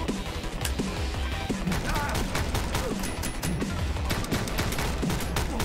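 Dense, continuous gunfire from the video game John Wick Commute Simulator: rapid overlapping shots and impacts keep up a loud, busy barrage throughout.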